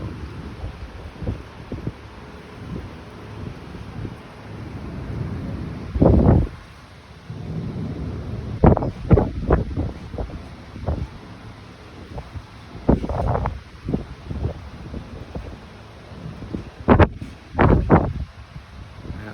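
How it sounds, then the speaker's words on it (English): A nighttime thunderstorm in the Philippines brings repeated thunder cracks and rumbles, some sharp and close, others duller, over a constant bed of wind and rain noise. "That's just a little quick video on the storm that's going on out there."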